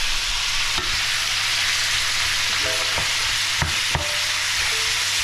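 Beef stir-frying in a pan, with a steady close sizzle and a few clanks of a utensil against the pan as it is tossed, no voices.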